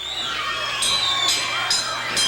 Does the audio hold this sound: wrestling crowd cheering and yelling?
yes